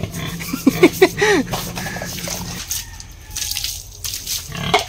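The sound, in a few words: pigs being scrubbed with a brush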